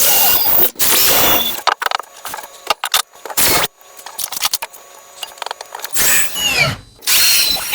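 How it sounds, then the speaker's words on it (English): A power drill whirs in several short bursts, pre-drilling holes in wood for shelves, loud and close, with quiet gaps and small clicks and knocks of wood between runs. "I'm gonna pre-drill all my holes just fine"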